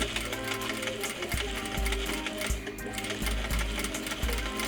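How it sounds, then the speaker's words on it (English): A sewing machine stitches bias tape onto a trouser fly piece, a loud close whirring hum broken by a regular series of low thumping beats as the needle runs continuously. "sew directly in the seam of your bias tape and fly piece"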